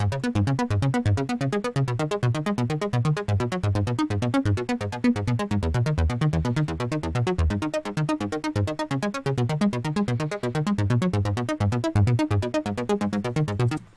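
Synthesizer chord progression driven by a built-in arpeggiator in electronic production, steady fast repeating notes cycling through the chords, loud and continuous throughout.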